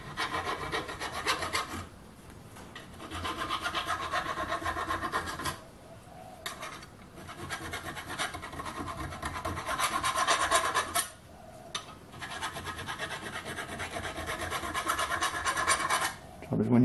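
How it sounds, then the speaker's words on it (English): A hand file rasps steadily across the end of a metal pin, tapering the edge for a simple pin wrench; long, close, repeated strokes with brief pauses between passes. "run a file round to take the edge off so we get a bit of a taper"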